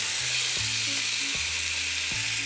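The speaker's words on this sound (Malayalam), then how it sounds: "നല്ല നെയ്യിൽ കിടന്ന് മുരിയുന്നുണ്ട്" Pineapple frying in ghee, a steady close hiss and crackle of sizzling fat throughout, with a few faint stirring clicks and no voices.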